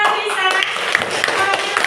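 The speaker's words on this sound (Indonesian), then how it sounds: "Tepuk tangan untuk Isa." Pupils in a classroom clap for a classmate, a short burst of brisk applause under a little background chatter.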